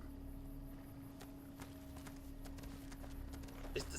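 A Brahmin, the two-headed cow of the game Fallout New Vegas, runs off on hooves, a light irregular clip-clop that is faint and a little distant over a low steady hum, with a louder hit near the end.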